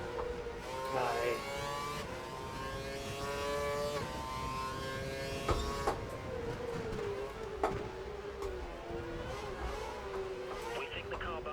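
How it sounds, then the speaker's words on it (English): Racing car engines in the F1 2012 video game at the Japanese Grand Prix, a steady high revving drone with shifting pitch and gear changes throughout, under a faint voice. "We think the car behind is running on full revs."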